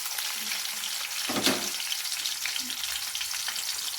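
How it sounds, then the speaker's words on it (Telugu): Onions, green chillies, curry leaves and sliced potatoes frying in a pan, a steady dense sizzle throughout with one louder burst of crackle as the ingredients are stirred. "కర్రగడ్డలు వేసుకొని కొంచెం వేగాలి"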